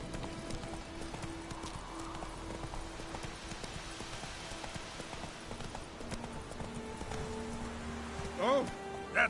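Roach, the horse from the game, walks with steady, close clip-clop hoofbeats over a soft background hiss, ending with a couple of louder snorts or neighs, while a voice talks faintly.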